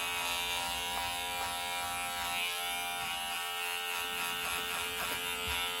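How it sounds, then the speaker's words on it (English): A small handheld electric fabric shaver trims the pile of a tufted mirror rug, giving a steady, close, high-pitched motor buzz with faint scraping pulses as it passes over the yarn, with no speech. "Favorite tool, definitely the nice little shaver."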